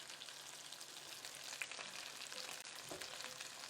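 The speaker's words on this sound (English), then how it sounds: "The onions are crisping as well as the mushrooms." Onions and mushrooms crisp in a frying pan, making a faint, steady sizzling hiss with a few tiny crackles, with no voices over it.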